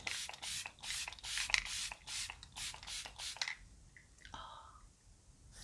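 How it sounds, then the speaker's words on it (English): e.l.f. Stay All Night Microfine Setting Mist sprayed close up in a quick run of about nine rhythmic pumps, each a short airy hiss, followed by quieter rustling. "use the e.l.f. Stay All Night Microfine Setting Mist"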